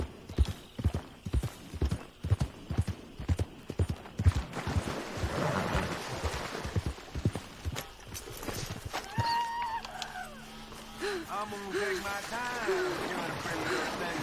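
Horse hooves clip-clop in a steady, close rhythm while riding through a swamp in Red Dead Redemption 2, the beat fading after about eight seconds into softer tonal game sounds.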